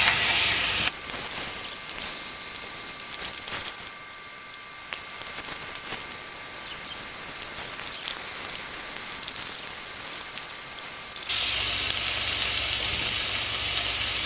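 Boneless pork chops sear in a hot pan with a steady, close sizzling hiss that carries on throughout, growing louder near the end.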